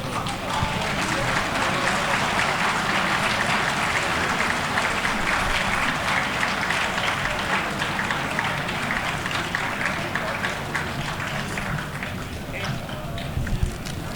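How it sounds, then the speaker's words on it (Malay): Audience at a press conference giving sustained loud applause, dense clapping from many hands that continues steadily and thins slightly toward the end. "berikan tepukan gemuruh untuk mengucapkan terima kasih kepada tetamu-tetamu khas kami"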